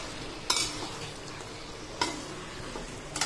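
Masala in a frying pan is stirred, with a spatula scraping and knocking the pan a few times over a low, steady sizzle, close up and with no talking.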